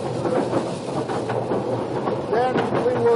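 A mine train rides down toward the deepest part of a mine, with steady rumbling and rattling of the cars and squealing wheel screeches near the end, while a voice talks over it.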